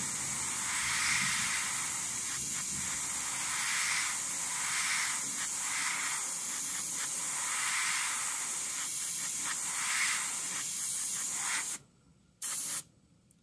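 An airbrush sprays paint onto a wave painting in a long, steady close hiss with slight pulses, then cuts off abruptly near the end, resumes for a short burst, and stops.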